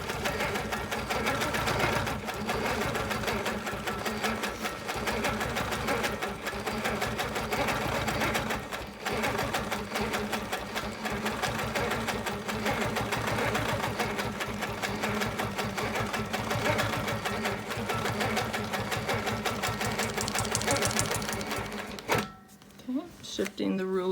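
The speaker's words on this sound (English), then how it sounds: "to stitch slow so that you don't get vibrations from the machine" A sewing machine stitches slowly and steadily across a wholecloth quilt, its rapid rhythmic needle chatter running close for over twenty seconds before stopping, with a person talking over it.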